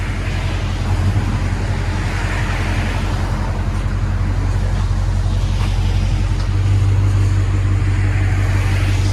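A Dodge Charger Scat Pack with a 6.4L HEMI V8 and deleted muffler rumbles with a deep, loud exhaust drone close by, holding a steady idle-like throb and swelling slightly near the end.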